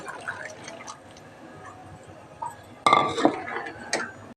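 Tamarind water is poured into a pot of ayila fish curry with a short splashing gush, surrounded by light clinks of a utensil against the pot.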